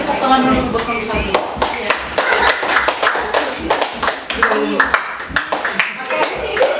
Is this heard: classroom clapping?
yes